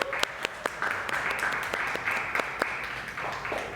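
A church congregation applauds to bless a family's newborn son, dense steady clapping from many hands filling a large room for a few seconds, with a faint voice underneath.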